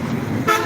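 A police vehicle from a station in Dhanbari gives a short, loud horn toot that begins suddenly midway through the moment and cuts through the background road noise.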